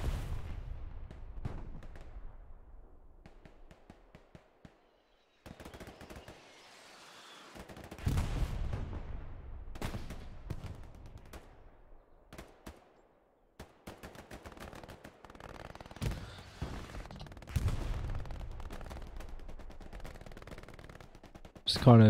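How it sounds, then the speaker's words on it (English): Artillery and gunfire in the military video game Squad, a long, busy stretch of repeated booming blasts and dense crackling shots mixed with bursts of rapid fire, some close and loud, others farther off. "Combined with some of this artillery, it's probably putting them off."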